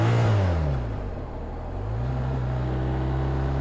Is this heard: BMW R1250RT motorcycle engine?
yes